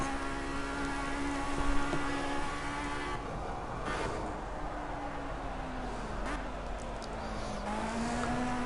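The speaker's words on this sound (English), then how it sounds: "Do your first 2 downshifts nice and quick." Racing car engine in the Project CARS video game, held at a steady high drone with pitch dropping and shifting as gears change, faint tire noise underneath and no voices.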